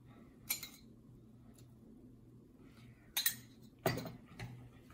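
A spoon clinks against a bowl while mixing chickpea salad, with a few scattered metallic taps and scrapes separated by quiet pauses, close and fairly faint.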